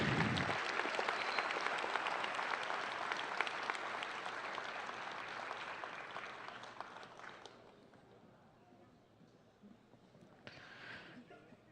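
At a middle school promotion ceremony, an audience gives a dense round of clapping that fades gradually toward the end, with a brief final flurry of claps.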